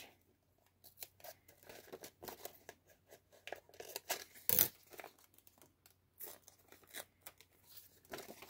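Scissors snip through a paper envelope during a journal-making craft, giving a quiet, irregular run of sharp cuts and papery crinkles with brief pauses between strokes and one louder snip near the middle, with no talk.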